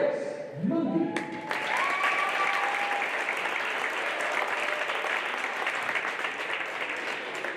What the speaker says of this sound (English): please, one more big round of applause for both of our seniors here, Harris Mundy and Anastasia Peterson.